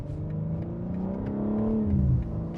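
A 2025 BMW M4 Competition engine runs steadily and loudly, its low engine note rising in pitch as it revs up and then settling back down, with no talking over it.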